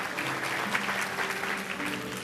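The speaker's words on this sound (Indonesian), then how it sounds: "Kasih tepuk tangan untuk mereka." Steady applause from a church congregation during a sermon, welcoming two children aged nine and ten. Many hands clap continuously at a moderate, even level, and no voice rises above it.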